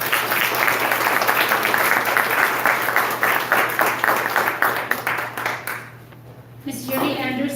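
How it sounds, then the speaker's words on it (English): Audience clapping at a community forum, dense and sustained for several seconds before tapering off, then a speaker's voice begins near the end. "Let's give him a round of applause."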